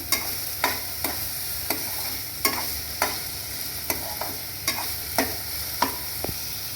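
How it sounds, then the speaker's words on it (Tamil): Finely chopped onion and tomato frying in a pan, stirred in a steady rhythm: about ten sharp scraping strokes spaced half a second apart over a low, continuous sizzle, close by. "ஒரு டொமேட்டோ இது ரெண்டுத்தையும் இதில் சேர்த்துக்கலாம் இதை நல்லா ஃப்ரை பண்ணிக்கலாம்"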